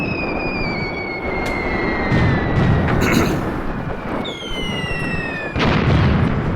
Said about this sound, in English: continuing to fire these mortars and take out the rest of the enemy advancing here from the front